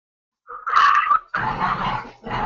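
A puppy growls close and loud in a few rough, snarling bursts separated by short pauses.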